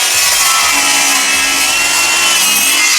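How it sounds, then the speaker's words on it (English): A circular saw cuts a KBRS ShowerSlope foam shower pan piece, a loud continuous high-pitched whine and rasp filling the whole moment at close range, alone with no voices. "Just using a circular saw,"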